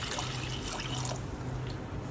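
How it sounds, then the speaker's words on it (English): About two cups of water is poured into a pot of fava beans, a soft, steady trickle and splash close by, faint and without talk. "So all we're gonna do is top this up with about 2 cups of water."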